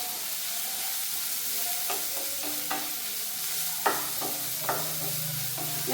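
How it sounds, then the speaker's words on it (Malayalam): Chopped food is sautéed in a pan, giving a steady frying sizzle broken by repeated spatula scrapes and clinks against the pan, close and alone. "നമുക്ക് നന്നായിട്ടൊന്ന് ഇതൊന്ന് ജസ്റ്റ് ഒന്ന് വഴറ്റിയെടുക്കണം കേട്ടോ"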